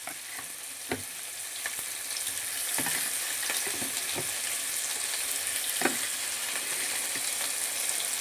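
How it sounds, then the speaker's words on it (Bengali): Prawns frying with tomato, potato and onion in a pan, giving a steady close sizzle throughout with occasional clicks and scrapes of stirring. "এবার টমেটো আর আলুটা পেঁয়াজের সাথে ভালো করে ভেজে নেব।"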